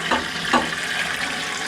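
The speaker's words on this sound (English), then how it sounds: "we just bring this pipe out of the sink, and we will fill those 5-gallon buckets with water" Water runs from a pipe at a milk house sink into 5-gallon buckets on a dairy farm, a steady close rush with a couple of brief splashy surges near the start.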